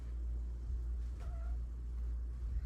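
A kitten gives a single short, faint meow partway through, nearly buried under a steady low rumbling background.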